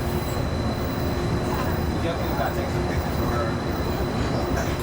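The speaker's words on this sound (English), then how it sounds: "Please remain seated until the monorail comes to a complete stop." A Disneyland monorail rolls toward the Tomorrowland station, its steady onboard rumble and a faint electric whine heard from inside the car, continuous throughout.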